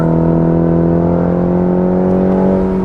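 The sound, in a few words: 2020 Cadillac accelerating at full throttle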